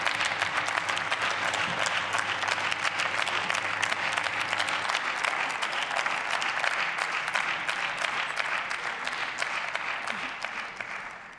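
Sustained applause fills a parliamentary chamber after a first speech in a debate on fighting extremism, a steady dense patter of many hands clapping without pause, fading slightly toward the end.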